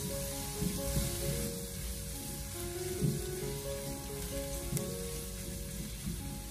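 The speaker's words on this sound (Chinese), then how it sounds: "紧接着再把切好的蒜末、小米辣放进来，然后再继续开小火不停的翻炒一下" Minced garlic and bird's eye chilies are stir-fried over low heat in a wok with rendered pork fat, giving a steady, close sizzle with occasional scraping stir knocks.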